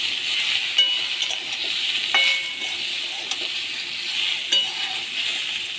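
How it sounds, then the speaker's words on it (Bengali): Vegetables stirred in a pan with dried chilli and salt, a steady close sizzle with a few sharp clicks of a utensil against the pan at intervals. "দিয়ে সবজিটা নেড়ে নেব।"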